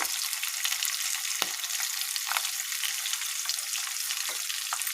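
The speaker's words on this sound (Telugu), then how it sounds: "కరివేపాకు వేసుకొని ఫ్రై చేసుకోవాలి" Curry leaves fry with green chilies and turmeric in hot oil for ajwain leaf rice, a close, continuous crackling sizzle with occasional sharper pops and no talking.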